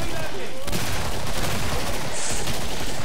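Shotgun fire in the shooter game Killing Floor sounds as dense, loud continuous blasts and rattling gunfire, with no clear pauses between shots throughout.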